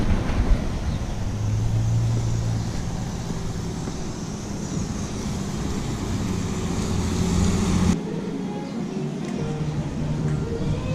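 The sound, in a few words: Epcot bus arriving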